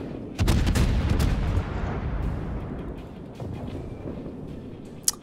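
Heavy naval guns boom in a warship battle game, a loud burst of salvos that trails off into rumbling echoes and then one late sharp crack, with no voices.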